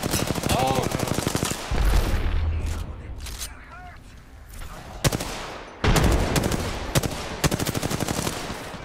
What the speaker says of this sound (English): they're all shooting my decoys